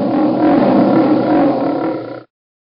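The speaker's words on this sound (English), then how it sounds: "What sound does a lion make?" A lion lets out a single loud, close, rumbling roar that holds for about two seconds and then cuts off abruptly into silence.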